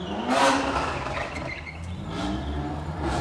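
A 2022 BMW M3 G80 Competition xDrive roars past with its exhaust while driving. The loud surge early on eases into a steadier engine drone.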